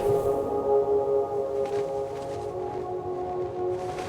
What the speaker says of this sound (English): So the music is almost choir-like as the chiseled hero descends from the heavens.